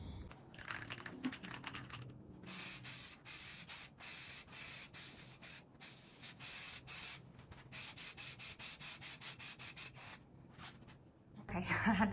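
Primer hisses from a spray can onto a piece of furniture in a series of short bursts, each a few seconds long and separated by brief pauses, followed by a rustle at the end.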